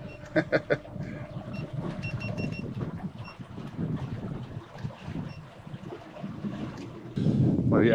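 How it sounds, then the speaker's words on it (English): Wind gusts across the water and the microphone during a wet-season boat camping and barramundi fishing trip. There is a steady blustery rush, a few brief clatters near the start and a louder gust at the end. "Bloody wind."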